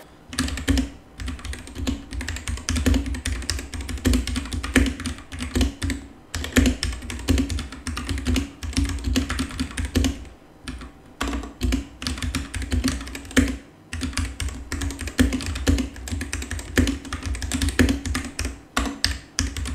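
Steady, fast typing on a Rexus Daxa M71 Pro mechanical keyboard with brown switches, close and clear, a dense stream of soft thocky keystrokes with brief pauses.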